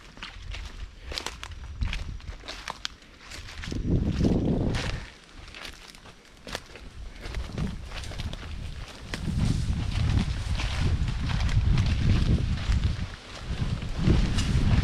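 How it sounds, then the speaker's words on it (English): Wind gusts buffet the microphone outdoors on El Cerro del Aripo, Trinidad, rising and falling in strong waves, with footsteps crunching along underneath. "It's windy up here."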